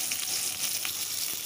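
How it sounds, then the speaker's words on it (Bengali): Onion and green chili frying in the leftover oil of a home kitchen wok, giving a steady, close, bright sizzle throughout with faint stirring scrapes and no talking. "ওই কড়াইয়ে যা তেল ছিল ওটাতেই পেঁয়াজ আর লঙ্কাটা দিয়ে দিব"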